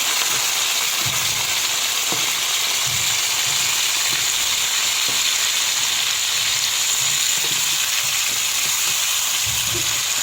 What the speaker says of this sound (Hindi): ऑयल गर्म हो गया है, अब हम इसके अंदर चिकन पुट कर देंगे।